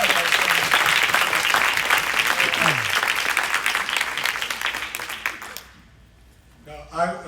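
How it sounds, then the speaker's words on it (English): Loud, dense applause from an audience at a real estate sales meeting, sustained for about five seconds before trailing off into near silence, with a brief voice rising at the end. "Give them a big round of applause."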